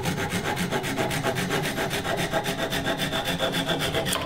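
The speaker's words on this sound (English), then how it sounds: "I'm just gonna cut that off with the saw" A hand saw cuts steadily through a wooden lightsaber workpiece held in a lathe chuck, with even, rhythmic rasping strokes, close and loud throughout.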